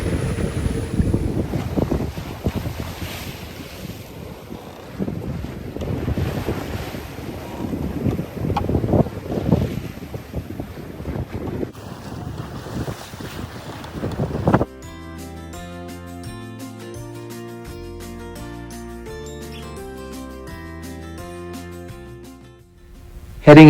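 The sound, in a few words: sailboat sailing downwind in big swells and wind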